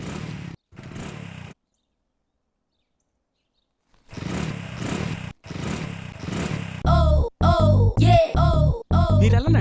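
Motorcycle engine sputtering through failed start attempts, going silent, then catching and running in loud uneven bursts of revving, nearby and without voices.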